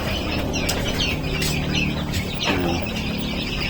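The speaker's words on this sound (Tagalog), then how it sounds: "May isang pabo rin tayo dito mga tropa naglilimlim." A brooding turkey hen sitting on eggs clucks among other poultry, with soft, irregular clucks and a few wing flaps nearby over a steady farmyard background.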